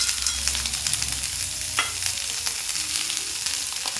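Boiled potato pieces and roasted peanuts sizzle and crackle in a hot pan for sabudana khichdi, with a spoon scraping as they are stirred, close and continuous, with no talking.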